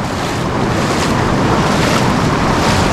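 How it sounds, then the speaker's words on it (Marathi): Water at Kshirdhara waterfall rushes in a dense, steady roar, loud and close, with wind buffeting the microphone and no voices. "आपला धबधबा तिथे आहे समोर, त्या बाजूला पण एक धबधबा आहे."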